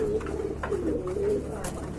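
Large, light-colored racing pigeons give low rolling coos close by, a steady murmur with no talk.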